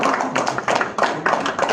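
Audience applause for Mr. Modi during a founders' visit to an IT office in Hyderabad, a short burst of dense clapping with uneven peaks, fairly close and moderately loud.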